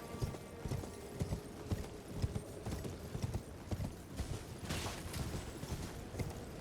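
Horse galloping in the video game Elden Ring, rapid rhythmic hoofbeats on hard ground, fairly close and steady throughout, with a brief whinny-like sound mixed in.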